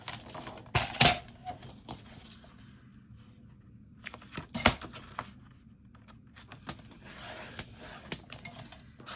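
Scissors cutting decorative checkered paper for a junk journal, crisp snipping and rustling at close range with a few louder cuts, no talk.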